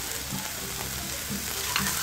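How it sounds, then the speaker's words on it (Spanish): Garlic, oregano and cumin frying in hot oil, a dense continuous sizzle close up with a few soft utensil knocks, no voices. "Freímos el ajo, el orégano y el comino"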